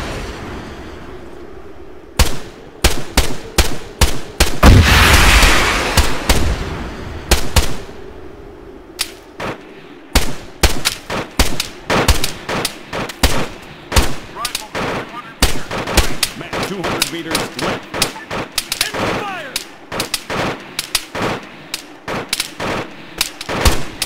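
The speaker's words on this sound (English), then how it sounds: "When this rocket leaves this fucking thing, start shooting." A rocket launches in a combat scene with a loud, sustained whoosh, followed by many sharp, close gunshots fired in uneven bursts and single shots that continue throughout.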